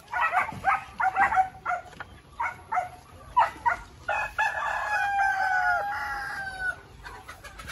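Several loud Rhode Island roosters crow in succession nearby, with a long drawn-out crow toward the end and scattered clucking around them.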